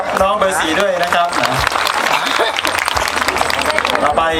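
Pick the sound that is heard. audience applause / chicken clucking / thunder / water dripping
audience applause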